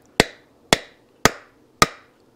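Four evenly spaced sharp blows drive a clutch basket part into place on a Yamaha 100 Trailmaster motorcycle during clutch repair, each a loud close crack that dies away fast, with no talk.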